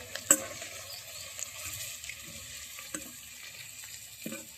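Onion frying in oil on a wood-fired clay stove, a soft steady sizzle with occasional crackles and pops, moderately close.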